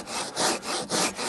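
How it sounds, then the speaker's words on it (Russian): A Japanese Silky Bigboy pull saw cuts through wood in slow, deliberate strokes, about five rasping pulls with brief pauses between them, close and clear. "И грызет она лучше, когда вот так вот медленно пилишь на себя"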